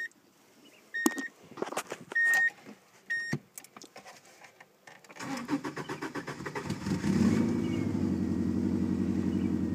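A 1995 Subaru Legacy with push-button start, parked after sitting overnight: a few chimes and clicks first, then the starter cranks and the engine catches into a steady, close idle.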